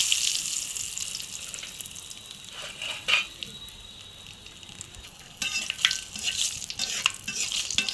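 Bay leaves, cardamom and garam masala frying in hot oil in a pan, a soft sizzle broken by scraping stirs and brief bursts of louder spitting, close and moderately loud.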